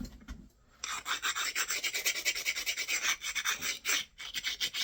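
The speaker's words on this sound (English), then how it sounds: "Since I'm replatforming with a 320 grit wheel now," A blade is sharpened against a 320 grit wheel, a close, rhythmic rasping scrape with quick strokes repeating steadily after a brief quiet start, and no voices.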